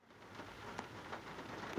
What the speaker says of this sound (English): We're at Walmart and it's raining.